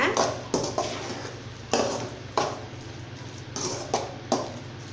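A spoon knocks and scrapes against a pan while grated coconut is stirred into cooked ridge gourd usili, giving sharp clinks at irregular intervals under a speaking voice.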